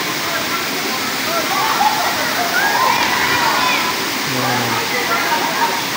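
Balagbag Falls in Mahaba, Real, Quezon, a loud, steady roar of falling water close by, with people talking faintly beneath the constant rush.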